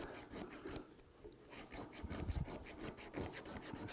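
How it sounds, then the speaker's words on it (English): A metal file rasps across a soft bronze fitting for a boat build, in quick repeated strokes with a scraping, gritty rhythm, close up and with no voices. "It doesn't dull the file at all because it's way softer than the file is."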